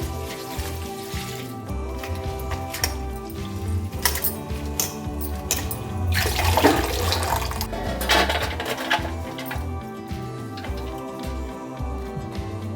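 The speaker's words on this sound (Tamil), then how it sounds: "இப்போ இதை வந்து தண்ணி ஊற்றி நல்லா கழுவணும்" Running water from a tap splashes steadily over drumstick leaves and flowers being washed, with occasional clinks of a vessel and rustling handling noises, close and continuous.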